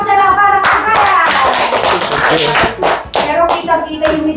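A group of people claps for a birthday celebrant, loud close applause with bright irregular hand slaps that swell and dip briefly before continuing.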